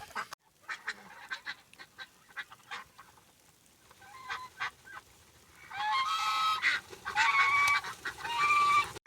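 Farmyard fowl calling: scattered honks and quacks at first, then a dense, loud chorus of geese and ducks honking together over the last few seconds, in snowy early December.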